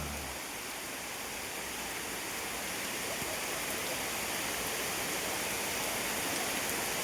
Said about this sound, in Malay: Air terjun Alun Naga. Bawah tu air terjun. Dengar dah bunyi.